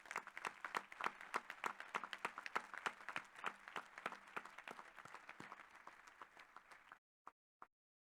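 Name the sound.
audience applause for graduates at commencement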